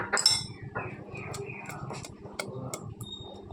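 Metal utensils clink and tap against dishes while shahi egg curry is served, a run of light, close, scattered clinks with a faint voice in the background.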